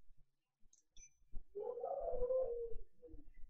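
Dogs howl outside a home in a single drawn-out, wavering cry at moderate distance that rises for a couple of seconds before trailing off, with no talking.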